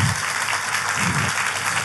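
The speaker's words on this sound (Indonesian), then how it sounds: "Tepuk tangannya yang paling meriah buat Yesus Tuhan kita." A church congregation claps for Jesus during a sermon, a short burst of dense, sustained applause from many hands filling the room without pause.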